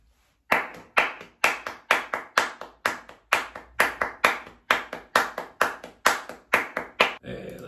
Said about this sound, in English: I'm gonna record some claps along with the start section of this